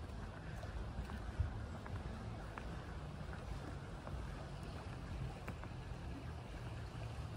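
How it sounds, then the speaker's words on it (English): A small stream in a park flowing gently, a faint continuous wash of water under soft wind noise, captured while walking on a warm day. "There's our little stream as I'm walking."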